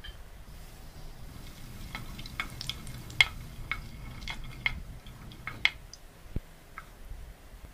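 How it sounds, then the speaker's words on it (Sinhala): Mustard seeds, a quarter spoon added to heated oil in a pan, crackle and pop in sharp scattered ticks over a low steady sizzle, close and fairly quiet, with no talking. "අබ ටික පුපුරනකොට"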